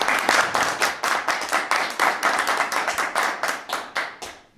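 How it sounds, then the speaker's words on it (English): A small audience at a tech meetup claps in distinct, fairly close bursts, a rhythmic run of individual hand claps that tapers off near the end. "Shall we give an applause?"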